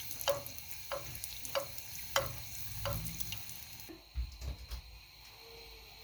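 Beignet dough frying in hot oil, a faint bubbling sizzle under a series of sharp, regularly spaced ticks and clinks from utensils, quiet and close.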